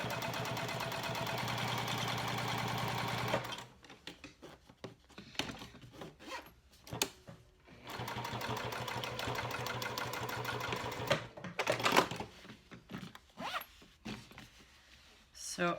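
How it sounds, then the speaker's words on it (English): A sewing machine stitches down one side of a zipper on a cork convertible clutch, running in steady buzzing bursts with brief pauses between, close and fairly loud. "I'm going to sew down just the right side of my zipper."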